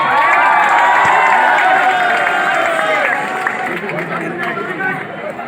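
An audience claps and cheers loudly, a dense wash of crowd noise and shouts that stays strong and steady, then eases slightly toward the end.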